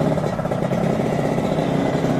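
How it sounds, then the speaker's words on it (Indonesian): Motorcycle engine fitted with an SMR Cobra model exhaust, a continuous loud mid-low burbling drone with steady pulsing throughout. "ini saya pakai knalpot SMR, bro. Nyobain yang model Cobra."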